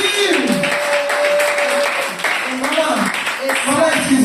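Church congregation applauding during a worship testimony, a dense sustained clapping wash with cheering voices and a melodic shout riding over it, loud and close throughout.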